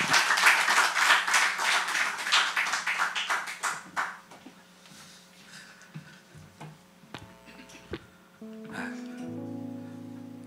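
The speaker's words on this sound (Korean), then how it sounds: "나오실 때 박수로 환영해 주시겠습니다." A church congregation claps in welcome during a Sunday worship service, dense clapping for about four seconds that thins to scattered claps, followed by a quieter stretch with a sustained tone near the end.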